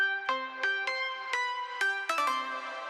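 A progressive house synth melody, a bright lead line of quick, evenly spaced notes climbing and falling, played alone at a moderate level.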